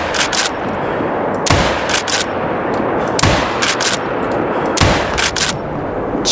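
The Moradi rifle fires repeatedly in the hunting game Call of the Wild, each loud, sharp gunshot arriving in quick clusters of two or three with echoing tails, spread evenly across the clip.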